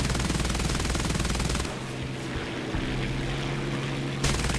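Rapid aircraft machine-gun bursts in the War Thunder combat game, loud and continuous over a droning propeller engine, with the firing dropping away midway and returning briefly near the end.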